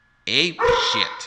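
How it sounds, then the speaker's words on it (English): A pet dog barks and yelps close by in a short burst of two or three harmonic barks, with a person talking over it. "that was my dog barking"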